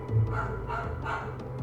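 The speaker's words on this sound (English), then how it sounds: "I don't know what the heck the dog's barking." A dog barks in a short burst of a few muffled yaps, faint and somewhat distant under a steady low background hum, with no voices.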